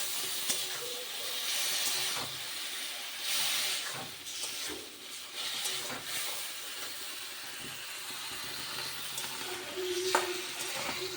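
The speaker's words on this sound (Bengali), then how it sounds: "এই যে মশলাটা এখন আমার কষাচ্ছে" Spice masala sautéed in plenty of oil in a pan, a steady broad sizzle with hiss and occasional stirring scrapes, moderately loud and close, no voices.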